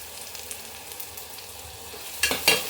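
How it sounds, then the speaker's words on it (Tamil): Curry leaves being stirred and sautéed in hot oil for a citron pickle give a steady low sizzle with faint scraping, then two louder crackling bursts near the end. "இது கொஞ்சம் நல்லா வதங்குற வரைக்கும் நல்லா கிண்டி விட்டுக்கலாம் இதுக்கு கூடவே கொஞ்சம் கருவேப்பிலையும் நம்ம ஆட் பண்ணிக்கலாம்"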